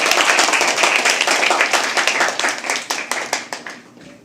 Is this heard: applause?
yes